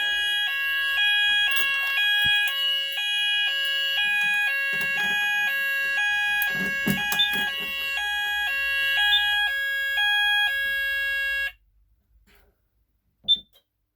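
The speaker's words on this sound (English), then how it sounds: "I'm finally using Apollo detectors and Space Sounder beacon" Fire alarm sounder beacon and detectors sounding a loud two-tone electronic alarm that alternates rapidly in pitch for about eleven seconds, then cuts off, with faint handling noises and a brief chirp afterward.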